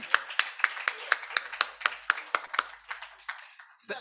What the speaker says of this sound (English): Warm applause for Mariam.